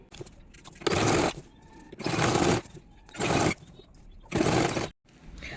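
A sewing machine stitches along the edge of a boys' night suit in four separate bursts of rapid, buzzing whir, each lasting about half a second to a second, with quiet pauses between.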